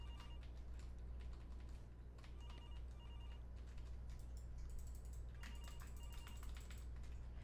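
A telephone rings in the Halloween game Jimmy's Halloween, sounding as faint, repeated electronic trills in short bursts over a low background hum.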